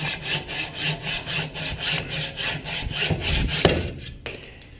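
Hacksaw cutting through a steel bike fork, steady back-and-forth rasping strokes in a regular rhythm, the pitch and resonance shifting toward the end before the piece drops free with a clank.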